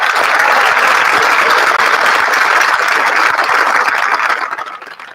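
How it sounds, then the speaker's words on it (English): Graduation crowd in a large hall applauds retiring high school faculty with dense, sustained clapping that holds steady and loud, then tapers off in the final second. "Please join me in applause for the following"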